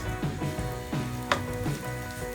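Chopped carrots sizzle and crackle steadily in hot oil, with a few light clinks over the frying.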